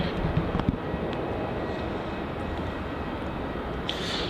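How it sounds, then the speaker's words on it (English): Qantas Airbus A330 on tug pushback at Melbourne Airport, heard as a steady, fairly distant jet engine rumble and broadband roar that holds level throughout, with no talk. "we've got a Qantas A330 on tug pushback here"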